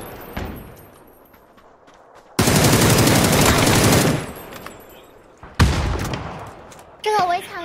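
Gunfire in a video game, with bursts of loud rapid automatic fire separated by quieter stretches, and players talking over the action.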